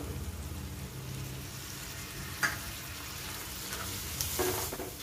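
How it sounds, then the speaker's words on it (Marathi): Chopped tomato and spices fry in hot oil for a soya bhurji, a soft steady sizzle with occasional stirring scrapes and a couple of sharp clicks from the spoon against the pan. "सगळं एकदा व्यवस्थित मिक्स करून घेऊन टोमॅटो शिजेपर्यंत आपल्याला परतवून घ्यायचं आहे"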